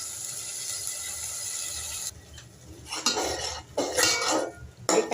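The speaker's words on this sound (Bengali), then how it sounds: "পেঁয়াজ বেরেস্তা করে আদা রসুন দিয়ে কষিয়ে নিচ্ছি" Onions, ginger and garlic sauté in oil in a pot for chicken curry. A hiss of frying is heard first, then a metal spoon clatters and scrapes against the pot in loud bursts, and no one talks.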